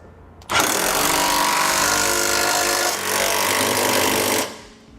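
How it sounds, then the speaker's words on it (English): A power tool with a 3/4 inch socket runs down flange nuts on carriage bolts while a trailer hitch receiver is installed on a 2013 Ford Edge, a loud continuous buzzing whir of about four seconds that starts and stops abruptly. "Now we'll use a 3/4 inch socket to tighten down our nuts."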